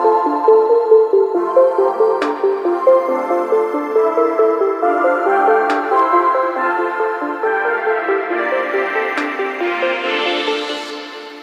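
Layered synthesizer chords sustain and overlap with a washy reverb tail, a steady pulsing swell that rises in brightness near the end.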